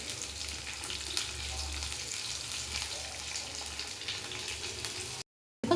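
Curry leaves and finely chopped green chillies fry in a pan for a spicy chicken liver pepper fry, giving a soft, steady sizzle with a low hum underneath that cuts out just before the end.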